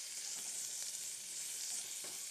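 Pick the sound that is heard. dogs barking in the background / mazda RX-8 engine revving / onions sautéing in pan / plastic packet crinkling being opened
onions sautéing in pan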